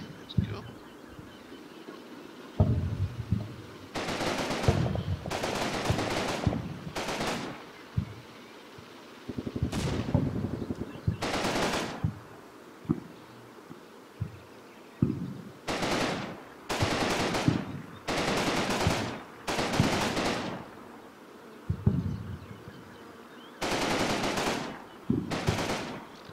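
Machine gun fire in the video game Combat Mission Battle for Normandy, repeated bursts of rapid gunfire lasting a second or two each with gaps between, moderately loud and without talk.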